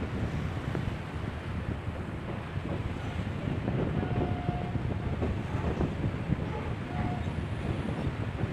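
A train crossing the Pamban sea bridge, India's first sea rail bridge, over 100 years old and about 2 km long, with steady broadband rumble mixed with wind buffeting and surf running unbroken throughout.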